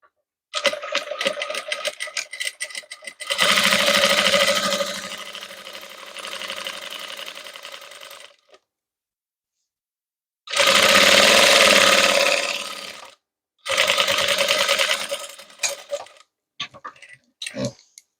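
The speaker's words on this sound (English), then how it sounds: "So now I have sewn on one part." A sewing machine sews a boning channel into a corset, running in several loud, rapid bursts of stitching chatter separated by silent pauses, ending with a few shorter stops and starts.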